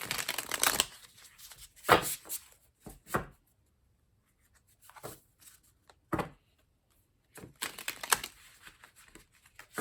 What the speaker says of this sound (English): since this is a special reading, I wanted you to be here for the shuffling